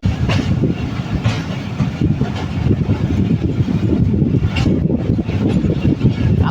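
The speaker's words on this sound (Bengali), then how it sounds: "আমাদের টুঙ্গিপাড়া এক্সপ্রেস রাজশাহীর মুখে কালোখালী জংশন স্টেশন ছেড়ে যাচ্ছে" Tungipara Express pulling out of Kalukhali Junction station toward Rajshahi, a steady loud rumble of rolling wheels and carriages with rhythmic rail clatter throughout, heard from onboard.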